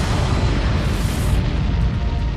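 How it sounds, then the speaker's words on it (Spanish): A massive gamma ray burst explosion rendered as a sound effect for a space documentary: a loud, sustained, rumbling roar of dense low-frequency energy that holds steady throughout with no pauses or talk. "Un rayo gamma estalla. Se trata de la explosión más grande conocida en el universo."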